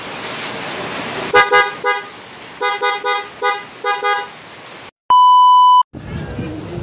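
Newly installed horn on a Suzuki Gixxer motorcycle, sounded in a series of short loud beeps, in pairs and then four quick toots, against outdoor background noise.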